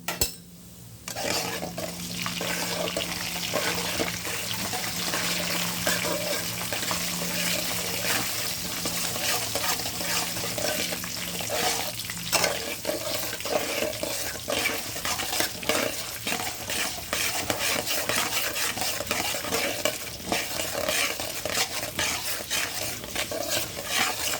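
Urad dal and other ingredients stirred in a hot frying pan, a steady close sizzle with continuous scraping and stirring, a long even stretch with no talking.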